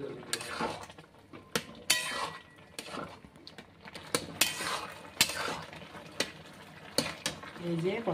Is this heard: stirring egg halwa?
yes